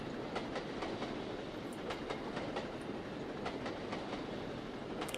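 Flying Scotsman steam locomotive in the train simulator Trainz: A New Era, rolling and braking into a station, with steady rail rumble and repeated clickety-clack wheel beats, fairly quiet and without speech.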